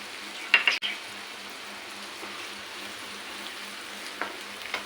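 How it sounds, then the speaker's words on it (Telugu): Onions and green chillies sizzle steadily in a hot pan for a mushroom gravy curry, a continuous close crackling hiss with a few sharper clinks of stirring near the start. "ఆనియన్స్ ఫ్రై అయినాయి"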